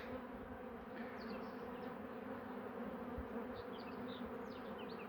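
Honey bees buzz steadily around an open hive frame rich with honey, a dense continuous hum close by with no voices, on a fine day after morning rain in Ardahan.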